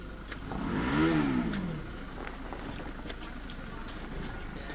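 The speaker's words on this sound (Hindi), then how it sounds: "गाड़ी आ रही है भाई" A car engine rises and then fades as it approaches and passes on a snowy mountain road at Naddi, Dharamshala, in Himachal, with a steady low outdoor rumble afterward.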